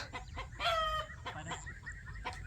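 Chickens cluck close by in short, scattered calls, and one bird crows briefly, over a quiet low rumble.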